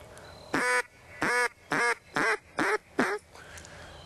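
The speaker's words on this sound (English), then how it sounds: "that's all there is to learning how to blow a duck call" Six evenly spaced, loud raspy quacks blown on a handheld duck call at a slow single-note cadence, each short honk clear and close with brief gaps between and no talking.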